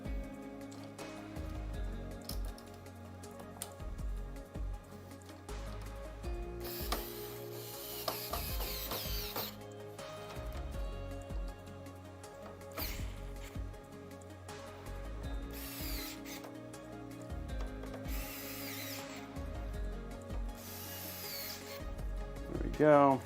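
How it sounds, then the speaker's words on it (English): A power screwdriver and small tools tighten screws on a Corsair 5000T PC case during a build: repeated short whirring bursts and mechanical clicks and ratcheting, close up, with some talking. "So now what we'll do is just re-tighten all this stuff up."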